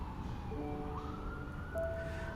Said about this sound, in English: you always hear this siren wailing every 5 minutes.